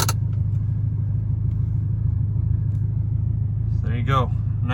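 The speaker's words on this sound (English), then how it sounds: "cold start. Fires right up, first try." A 2008 Audi R8 engine idles after a cold start, holding a steady, deep, even rumble close by, with a brief voice near the end.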